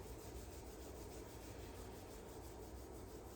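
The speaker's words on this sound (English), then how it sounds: "Rub the hands together" Palms rub briskly together during a yoga session, a continuous close, even friction swish with no pauses and no voices.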